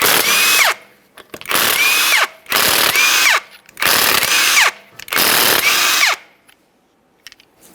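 A power tool zips five 19mm lug nuts off the wheel of a Ford Fusion in five loud, close bursts of about a second each, separated by short pauses, with no talking.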